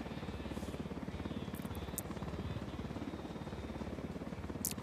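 Military helicopter flying close behind and overhead in the Ghost Recon Wildlands video game, a steady, continuous rotor thump with a droning engine that stays fairly loud throughout, with no talking.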